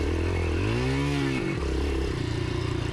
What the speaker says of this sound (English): You can see the bike's working hard